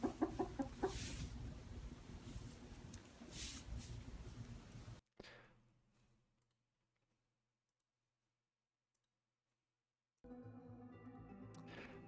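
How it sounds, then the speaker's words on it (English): Chicken clucking from a Godot-engine video game plays in a dense burst for about five seconds, then cuts to near silence before a second loud, harmonic stretch of game sound returns. "that sounds like a chicken to me."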